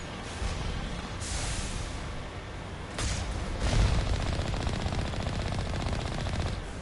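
Rapid automatic gunfire from the Mass Effect 1 video game, a loud sustained burst of bursts with sharp cracks, continuous over several seconds without speech.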